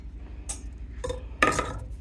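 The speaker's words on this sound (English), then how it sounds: "I need to mix it up. So I need a whisk." Three short bursts of a whisk clinking against a glass quart jar while stirring a lime-water solution, quiet with a low hum underneath and no speech.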